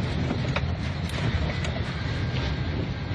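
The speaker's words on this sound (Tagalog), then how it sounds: "nilipad at binalibag pa ng malakas na hangin ng mga luggage container sa airport sa Jeddah" Strong storm winds roar across the airport at Jeddah, Saudi Arabia, producing a loud, constant rumbling blast of buffeting wind noise with no clear pauses.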